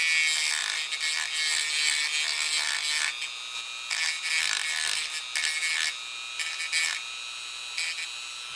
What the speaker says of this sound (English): But we're going to use a little Dremel tool here.